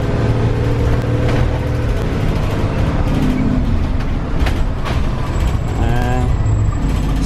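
Freightliner truck pulling away from a stop sign, its engine a steady low rumble that builds gradually, with faint hissing and rattling cab noise and no voices.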